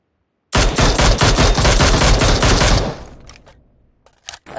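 Sustained automatic gunfire in a battle royale video game, a loud close burst lasting over two seconds that trails off into a few scattered distant shots.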